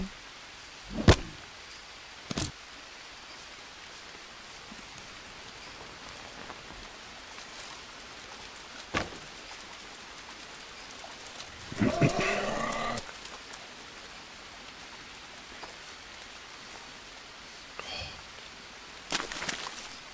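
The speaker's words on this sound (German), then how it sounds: "Jetzt regnet es gerade" Steady rain pours down in the survival game Green Hell, a soft continuous hiss throughout, broken by a few sharp knocks and a brief rustling burst midway.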